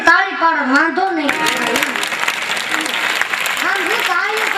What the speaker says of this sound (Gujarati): આમ જો તાળીઓ પાડો તો મજા આવે